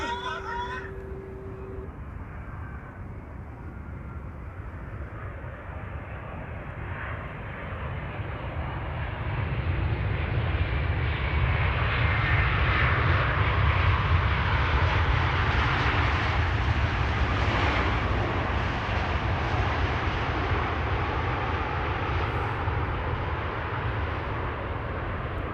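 An airliner lands at Amsterdam Schiphol Airport, its jet engine roar building from a distant rumble into a loud, broad rushing whine that peaks midway and then holds as a steady roar, with brief background talk early on.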